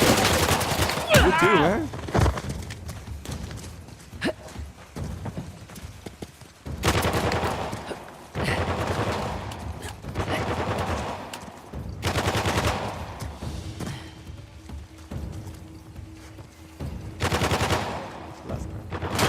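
Bursts of automatic and single-shot gunfire from the video game Uncharted: The Lost Legacy come in repeated volleys amid game noise, with someone speaking briefly.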